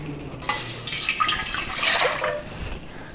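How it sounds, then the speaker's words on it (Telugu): Water poured into a pot of cleaned moong dal for boiling, a splashing, gurgling pour that begins abruptly, swells and then tapers off, close up and with no talking. "ఇప్పుడు పెసరపప్పు ఉడికించుకోవడానికి నీళ్లు వేసుకుందాం"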